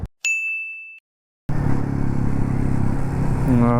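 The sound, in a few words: motorcycles being parked at breakfast stop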